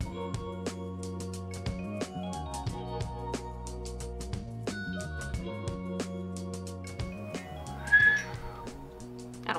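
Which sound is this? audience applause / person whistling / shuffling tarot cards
person whistling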